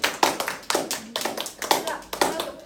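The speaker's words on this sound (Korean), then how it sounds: "박수 한번 쳐주실까요?" A small group of students claps after a classroom debate, with loose, uneven bursts of hand claps close by, and faint voices mixed in underneath.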